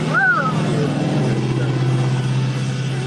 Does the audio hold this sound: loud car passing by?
yes